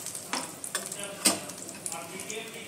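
Water spinach is stir-fried in a wok with garlic oil: close, crackling sizzle broken by a few sharp scraping stirs and clinks of a utensil.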